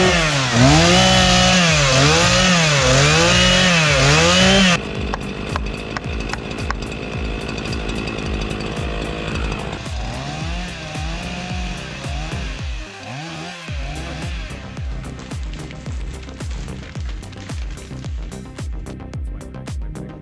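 Big chainsaw cutting a tree, a loud sustained motor whine that wavers as it revs, then settles into a rougher, rattling cutting drone, running continuously without talk.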